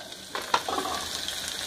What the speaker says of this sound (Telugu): ముందుగా మనం చికెన్ పులుసు కోసం ఆయిల్ పెట్టుకొని ఆనియన్స్ వేసుకుంటున్నాం